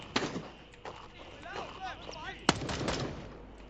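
Shotgun blasts in a Fortnite-style video game, a few sharp reports spread across the moment, the loudest near the end, with background game sounds and a person talking over them.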